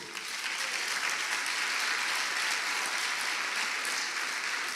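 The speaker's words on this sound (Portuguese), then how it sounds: "Dê um forte aplauso ao Senhor." Church congregation at an Easter service applauding the Lord: a loud, dense, steady wash of many hands clapping, sustained evenly throughout without pause.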